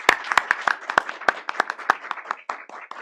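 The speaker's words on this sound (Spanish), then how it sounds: "Lo recibimos con un aplauso" A modest audience at a heritage archaeology event claps to welcome a speaker, with sparse, distinct hand claps close by that thin out over a few seconds.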